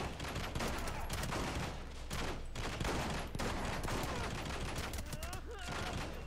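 Sustained gunfire in The Bourne Conspiracy, dense continuous volleys of shots loud and close throughout, with a voice speaking faintly underneath.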